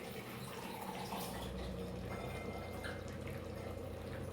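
Water is poured from a tumbler into a pot for Chettinad mutton biryani, a soft steady filling and dripping sound that stays faint and continuous with no talk.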